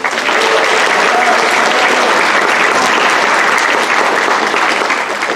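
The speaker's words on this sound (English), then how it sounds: "Let's give them another round of applause for their amazing performance." Loud, sustained audience applause after a Filipino folk music performance at a university cultural night, dense and even clapping from a large crowd filling the whole stretch.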